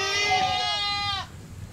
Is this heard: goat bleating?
yes